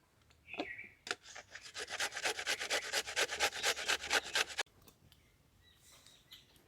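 Carrots scraped against a hand grater in quick rhythmic strokes, about twenty rasping passes in a steady burst lasting a few seconds, close and clear, followed by quiet.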